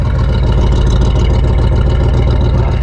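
A 1973 GMC C2500 pickup engine running steadily after an alternator and fuel filter replacement, a loud, close, even rumble with no speech.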